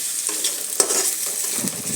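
Egg chowmein ingredients frying in a pan, a steady bright sizzle with a soft scrape of stirring partway through.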